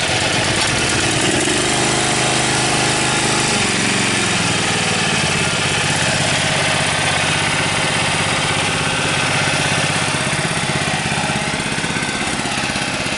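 A small engine on an extrication tool power unit starts up and settles into a loud, steady idle, droning close and unbroken throughout.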